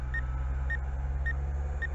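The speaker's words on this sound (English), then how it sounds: "I press it for some seconds and it starts beeping." A Syma X8HG quadcopter drone in headless mode gives four evenly spaced short high beeps over a steady low hum, moderately loud and close.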